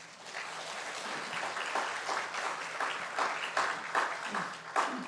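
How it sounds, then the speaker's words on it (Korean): Audience applause at a Korean theological seminary gathering welcoming a former university president, a steady wash of many hands clapping for about five seconds with no voices over it. "먼저 여러분 박수 한번 하겠습니다."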